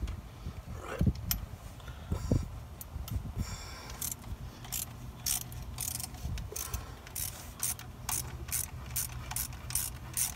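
A ratchet wrench works the bolts on the EGR tube of a Ram 1500, producing repeated rapid clicking bursts close by, with short pauses between strokes and no talk.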